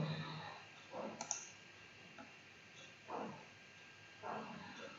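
Code is typed on a computer keyboard in a few faint, scattered bursts of clicking keystrokes separated by quiet pauses.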